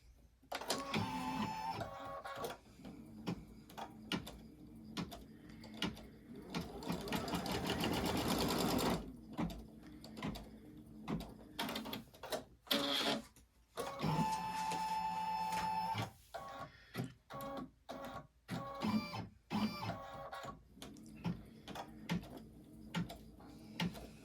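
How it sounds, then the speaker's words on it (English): Embroidery machine stitching registration marks in black thread, close rapid mechanical needle chatter in bursts with whirring carriage moves and clicks between runs, no voices. "I am going to stitch the registration marks."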